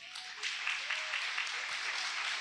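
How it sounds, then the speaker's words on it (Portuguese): A church congregation applauds loudly and steadily, with a dense wash of clapping hands that builds slightly and holds for a couple of seconds. "Aplauda bem forte ao Senhor."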